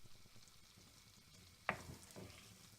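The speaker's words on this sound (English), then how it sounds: "now I'm going to add my onions and bacon. I'm just going to cook that away slowly" Onions and bacon fry gently in a pan over low heat, a soft steady sizzle with one sharper crackle partway through, quiet and close with no voices.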